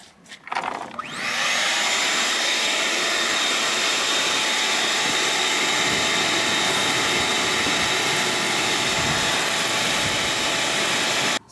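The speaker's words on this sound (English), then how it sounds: "I'm going to go grab the vacuum real quick and suck all that out" A vacuum cleaner switches on after a second and roars with a loud, steady whine, sucking debris continuously until the end.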